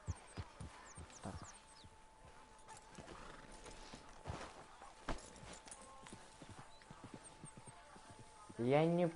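Horses in Red Dead Redemption 2 clop their hooves in a steady, uneven patter under game voices, and one horse lets out a sharp, loud whinny right at the end.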